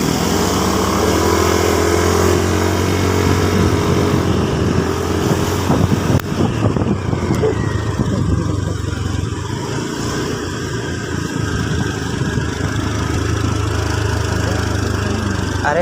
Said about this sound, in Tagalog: Are na yung motor din.